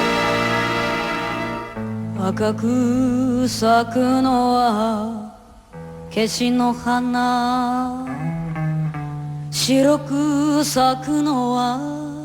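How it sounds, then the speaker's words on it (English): Enka: a voice with strong vibrato carries long, held melodic phrases over soft accompaniment, clear and prominent throughout. "if you want to know what enka sounds like, kind of sounds like this"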